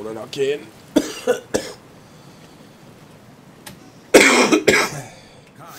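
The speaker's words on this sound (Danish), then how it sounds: "Sorry for min hoste." Several harsh coughs, the first cluster early and a louder burst near the end, from a person speaking Danish over the quiet background of a Battlefield Hardline game campaign.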